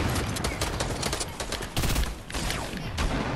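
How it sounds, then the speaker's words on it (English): Rapid gunfire in the Fortnite video game, dense continuous bursts of shots filling the clip loudly with no speech. "Somebody shooting at me."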